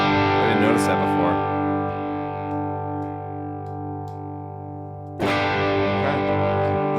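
An electric guitar played through a Rimrock Mythical Overdrive pedal with its Telefunken diode engaged gives a sustained, overdriven chord that slowly decays, then a fresh strum rings out loud and close.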